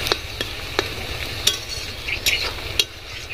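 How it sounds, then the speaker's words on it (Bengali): Onions frying in oil until golden brown, a steady close sizzle with repeated scraping clicks of a utensil stirring the pan. "পেঁয়াজগুলো আমি একটু গোল্ডেন ব্রাউন কালার করে ভেজে নেব।"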